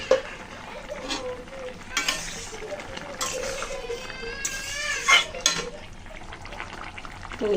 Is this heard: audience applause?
no